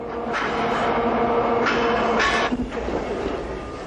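Train rolling on rails in Mongolia, a steady close rumble of railroad cars with faint clicks and brief squeals, continuous throughout with no voices.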